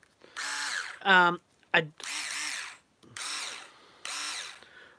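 A Metabo cordless screwdriver runs in four steady whirring bursts separated by short pauses, with a ratcheting clutch-like chatter between the first two bursts and a brief spoken phrase.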